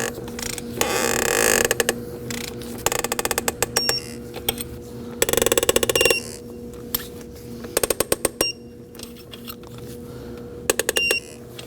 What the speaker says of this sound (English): we're gonna go ahead and torque those 4 bolts to 9 foot-pounds